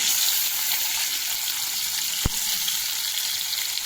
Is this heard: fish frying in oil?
yes